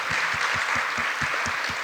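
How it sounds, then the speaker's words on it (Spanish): An audience applauds panelists at a music-industry dialogue forum, a steady wash of clapping with a regular beat of rhythmic low thumps running beneath it through the short stretch. "Aplauso a los panelistas primero, John, Luis y Elart."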